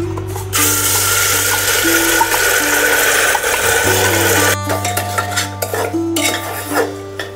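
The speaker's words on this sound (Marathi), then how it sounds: "मसाला छान परतून घ्यायचा आहे।" Ground masala paste sautéing in hot oil inside a pressure cooker for chana masala, with a steady close sizzle and repeated scraping and clinking of a metal spoon against the pot.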